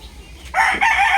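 A Classic White Kelso gamecock from a game farm lets out a short, loud crow close by, a brief harsh burst that rises sharply midway and holds.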